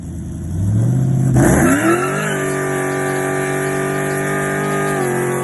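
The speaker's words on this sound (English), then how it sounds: "give them a little burnout in front of the shop, and I'll put that in here" Straight-piped Chevrolet Camaro with a 4L60E transmission doing a burnout in front of a shop: the engine revs up hard, then tires squeal loudly while the engine holds a high, raw roar, close and very loud.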